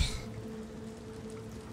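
Rain in the video game Little Nightmares 2 makes a faint, steady hiss of falling drops throughout, with no voices.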